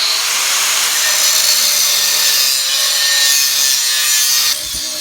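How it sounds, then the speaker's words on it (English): Angle grinder with a cut-off wheel cutting steel tubing, a loud continuous high-pitched grinding screech held steady at close range, easing slightly near the end. "It's time to work with the grinder and cut off wheel for a while."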